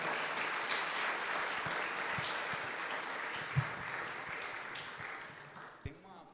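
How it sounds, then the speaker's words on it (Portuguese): A congregation at a Baptist church service applauds steadily, a dense wash of clapping with a few louder individual claps standing out near the end. "Você pode aplaudir?"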